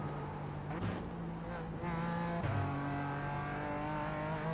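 A BMW GT4 race car engine in iRacing on the Nürburgring Nordschleife revs hard and climbs through the gears, its steady close drone dipping at three quick upshifts, with no talk.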